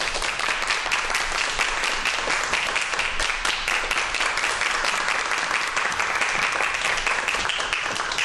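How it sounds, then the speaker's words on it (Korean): Steady, dense applause from a large lecture audience welcoming a science speaker onto the stage, sustained at even loudness throughout with no pauses. "박수로 맞아주세요."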